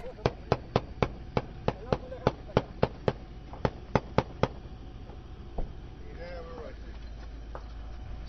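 A rapid run of about fifteen sharp gunshots cracks out at an even pace in Mosul, then one more isolated shot over a windy background.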